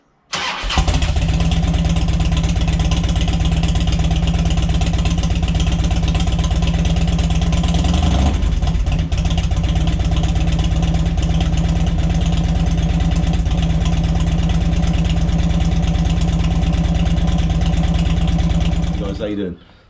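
A Harley-Davidson Road King motorcycle engine starts and settles into a loud, steady, close-up idle with a deep uneven throb, running continuously before shutting off near the end.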